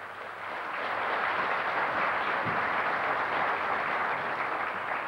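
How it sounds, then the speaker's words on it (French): A large audience at a 1996 federation general assembly in Bagnères-de-Bigorre applauding the president, a steady, broad wash of clapping that swells in and holds at moderate loudness throughout. "vous pouvez applaudir et le président et votre présidente"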